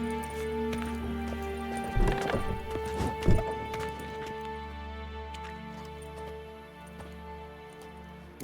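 Horse hooves clip-clop in The Witcher 3 video game, a cluster of uneven hoof strikes and clatters near the middle over a steady humming backdrop of game ambience and music.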